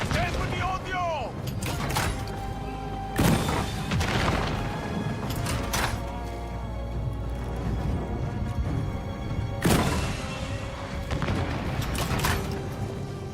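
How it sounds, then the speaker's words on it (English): Explosions and combat impacts sound in the video game Ghost of Yotei, several sharp booming bursts spread over a steady rumbling game soundscape with clanks and mechanical noise. "The explosion is doing nothing for the doors."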